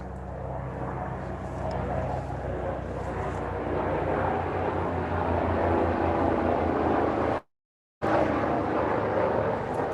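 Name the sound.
Starflight ambulance helicopter flying over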